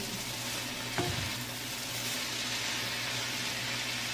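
Potatoes stir-frying in a pan with an even, close sizzle, and a single scrape of stirring about a second in before the frying continues steadily alone.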